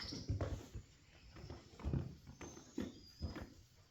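A donkey walks close by on an outdoor farm, its hooves clip-clopping in a steady, uneven rhythm of several soft thuds with no one talking.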